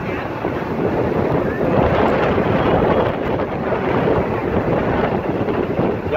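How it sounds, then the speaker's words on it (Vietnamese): Strong wind buffeting a microphone on a street in Saigon, a loud continuous roaring rumble with no pauses, drowning out other sound. "Gió dữ vậy."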